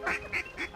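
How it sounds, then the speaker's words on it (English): Three quick, nasal duck quacks in a short rhythmic run, clear and fairly close, with hunters waiting nearby. "we've got ducks working in there"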